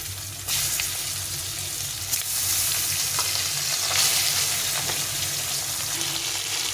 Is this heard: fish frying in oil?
yes